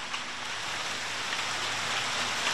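Steady rain pours down at a bus stop, a dense, even hiss of drops striking nearby surfaces with no voices.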